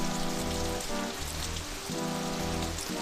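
Rain falling in the Death Gate adventure game, a dense steady hiss of drops on a surface layered over a low, droning musical tone, with no voices.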